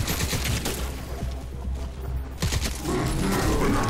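Gunfire from the video game Crysis 3 crackles in rapid bursts, loud and close, with a brief lull in the middle before the shooting picks up again, denser toward the end.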